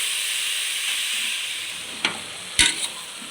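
Vegetables sizzling in sesame oil in a pan for sambar, a continuous hissing fry with a couple of brief clacks from stirring near the end, no voices.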